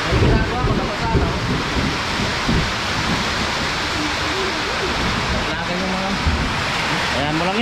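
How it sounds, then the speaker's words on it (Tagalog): Sudden heavy rain pours down around a rural farm hut, a dense steady roar of water with gusty wind noise that fills the whole stretch without a break, with faint voice-like sounds buried underneath. "Biglang dumating malakas na ulan eh."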